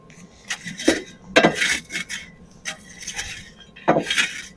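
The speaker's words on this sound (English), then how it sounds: "we still got a chunk of wood in there. We got a nice coal bed. Kind of stir that up here." A poker stirring the coal bed and a remaining wood chunk inside a wood stove fitted with replacement refractory blocks: irregular scraping, rasping strokes with light metallic clinks, close and moderately loud.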